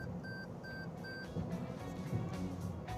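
Toyota Corolla Hatchback lane departure warning sounding as three quick, clear beeps in the cabin, faint over road and engine noise from the moving car.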